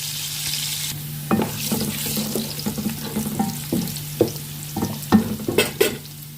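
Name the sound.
onion frying in pan for chana pulao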